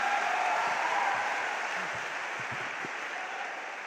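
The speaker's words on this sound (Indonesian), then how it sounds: "Ya Allah, yang tepuk tangannya keras," Loud, continuous clapping from a seminar audience, a dense wash of hand claps that stays strong for several seconds with faint voices underneath.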